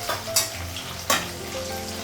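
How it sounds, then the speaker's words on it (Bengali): Fish fries in oil in a hot wok with a constant loud, close sizzle, punctuated by a couple of brief spatters or stirring clatters, and no talking. "এখন হচ্ছে মাছটা ভাজবো। কড়াইটা গরম হয়ে গেছে"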